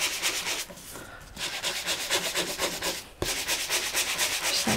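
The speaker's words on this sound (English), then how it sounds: "now when I take the sandpaper to the top of it, I can actually release the design" Sandpaper rubs along the edges of a paper craft box in steady, close scratchy strokes. There is a brief pause and one light knock partway through.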